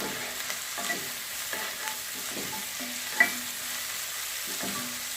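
Capsicum is stirred into softened onions frying in a pan for chicken chowmein, giving a steady sizzle broken by periodic scraping strokes of a spatula, with no speech.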